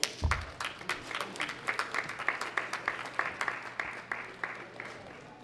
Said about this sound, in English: Big round of applause for Daniel Shokatov.